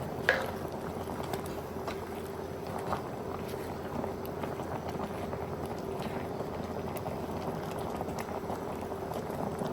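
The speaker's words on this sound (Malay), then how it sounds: "So dah mendidih ni" Chili sambal tumis for dried squid simmering in a pot, with a low continuous bubbling burble close by, fairly quiet and steady throughout, no voices.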